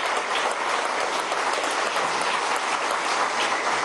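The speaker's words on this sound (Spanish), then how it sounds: "un aplauso desde aquí, desde la sede central del Banco de Venezuela" Applause from a crowd at the Banco de Venezuela headquarters, a dense unbroken wash of clapping that holds steady and loud throughout without any voices.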